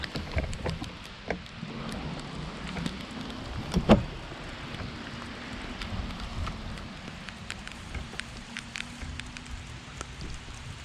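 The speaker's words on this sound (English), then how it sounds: "this rain's really starting to pick up" Steady rain falling outdoors by a barn-find collection shed, a broadband patter with scattered sharp drops and a brief louder splash near the middle, steady throughout with no talking.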